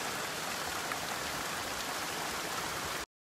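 Fountains at Villa d'Este in Tivoli pour and splash in a steady, loud, dense rush of falling water that runs unbroken before cutting off at the end.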